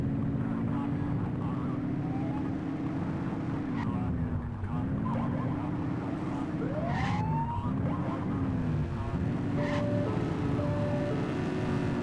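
A police car siren in The Precinct video game gives short rising whoops and blips over a steady loud engine drone and traffic, with a brief upward sweep midway and small high chirps later.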